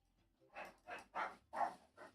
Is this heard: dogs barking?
yes